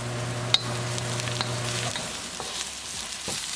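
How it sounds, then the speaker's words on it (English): Onions sizzling in a pan while being cooked for a tadka, a steady crackling fry with occasional stirring clicks and scrapes, close and with no talking. "Keep it moving and keep cooking until the onions are nicely translucent."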